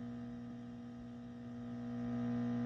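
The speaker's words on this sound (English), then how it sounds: "you do have quite a bit of a buzz in a reverb circuit" A steady electrical buzz from the reverb circuit of a Vox AC15C1 tube guitar amp, with a strong low hum and harmonics, constant and close, swelling slightly louder toward the end; no voices.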